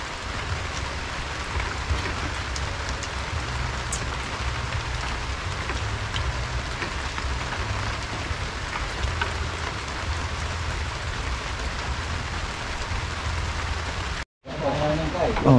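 Steady light drizzle falling over a rural farm field, a dense even patter that holds at moderate loudness without a break, cutting out briefly near the end before returning.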